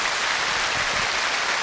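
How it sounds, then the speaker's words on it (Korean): A large audience at a Korean outdoor song contest show claps together, a dense, even hiss of many hands sustained throughout, loud and unbroken with no voices on top. "박수 한번 해주세요"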